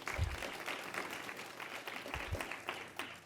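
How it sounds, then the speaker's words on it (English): An audience at a stem cell panel event applauds, a soft, steady patter of many hands clapping at a moderate distance for a few seconds. "Round of applause."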